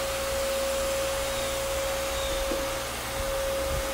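A Craftsman 4 gallon 5 peak HP shop vacuum runs steadily and loudly, giving a constant broadband rush with a steady whining tone and no pauses.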